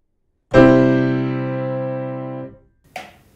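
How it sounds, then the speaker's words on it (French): A harsh, hard piano tone from a key struck from high above, one loud chord sounding for about two seconds and then damped, followed by a short faint knock. "ce son se produit lorsqu'on attaque de haut, même décontracté"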